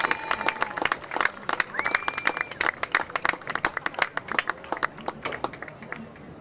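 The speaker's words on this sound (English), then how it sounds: "Big round of applause for tonight's Paly seniors." Football game crowd at a 2014 Palo Alto versus Milpitas high school senior day, applauding the seniors with brisk, uneven clapping. Cheers and a few whistles rise over the clapping, which carries open-air stadium spaciousness.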